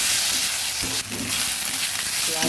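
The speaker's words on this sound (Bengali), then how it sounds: "আদাটা ভালোভাবে নেড়ে দিচ্ছি।" Ground ginger paste sizzles loudly in hot oil in a pan as it is stirred for a katla fish head curry with taro, with steady close frying and a few brief spoon scrapes.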